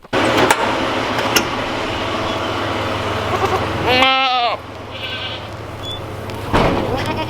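Goats bleat on a farm in a short harmonic call near the middle, set against steady outdoor background noise with faint knocks.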